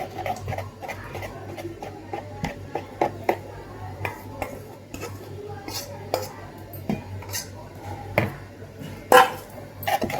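Brownie batter being mixed in a bowl: a utensil clinks and scrapes against the side again and again in an uneven rhythm, close and clear, with a steady low hum underneath.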